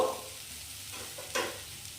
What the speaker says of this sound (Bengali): ততক্ষণ আলুটা ফ্রাই হচ্ছে